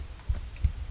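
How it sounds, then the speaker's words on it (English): Heartbeat sound effect in the video game Tomb Raider II, in the 40 Fathoms diving area: two soft, low thumps about a third of a second apart, faint over a quiet background hum. "Can you hear that heartbeat?"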